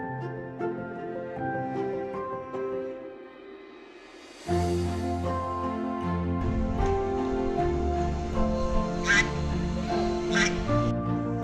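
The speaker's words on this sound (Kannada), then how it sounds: "ಇಲ್ಲಿ ತುಂಬ ವೆರೈಟೀಸ್ ಆಫ್ ಬರ್ಡ್ಸ್ಗಳು ಕೂಡ ಇದೆ." Ducks quacking among other birds at Kaveri Nisargadhama forest park near Kushalnagar, Coorg, a run of close, repeated quacks that grows louder and busier partway through.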